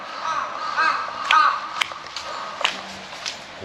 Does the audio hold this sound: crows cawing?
yes